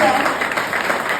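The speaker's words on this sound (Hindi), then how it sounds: "मैं चाहता हूं उनके लिए जोरदार तालियां बजाओ।" A quick swell of audience clapping at a skincare and nutrition tour event, a dense, short wash of hands heard at close range.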